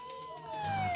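Ambulance siren from a stickman video game, a steady gliding electronic wail that drifts slowly downward in pitch, running alone and continuous throughout.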